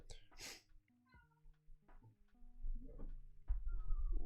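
A few short cat meows, fairly quiet and spaced apart, with faint background rustling and a louder muffled thump near the end.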